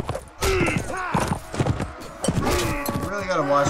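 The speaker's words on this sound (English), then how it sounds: "Horse." Horse hooves clip-clop on the ground in the medieval video game Mount and Blade Warband, a rhythmic series of thuds mixed with other game sounds and tonal effects.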